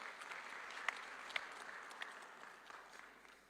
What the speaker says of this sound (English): Big round of applause to welcome him.